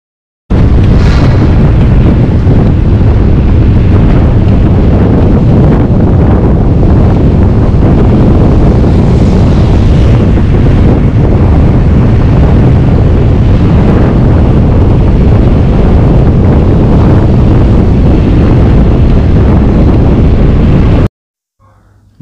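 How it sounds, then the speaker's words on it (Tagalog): Strong wind buffets the microphone during a night bike ride on Al Reem Island, a loud, continuous roaring rumble lasting about twenty seconds before cutting off abruptly. "Malakas ang hangin dito"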